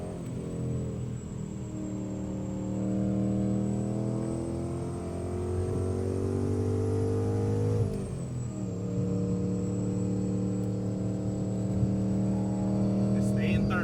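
A 700+ horsepower Mustang GT on a mountain road, its engine droning steadily in third gear with layered harmonic hum, a brief dip and rise in pitch near the middle, while occupants talk over it.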